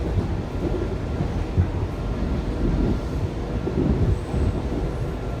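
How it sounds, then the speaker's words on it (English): A mixed metro train rolls past with a steady, loud low rumble and rattle that holds for several seconds without a break. "Another mixed train."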